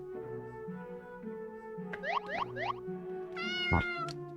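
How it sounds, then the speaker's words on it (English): A cat in the video game Tales of the Black Forest meows several times in a row, short rising calls standing out clearly over a steady tonal background hum with no talking. "This cat is trying to tell me something."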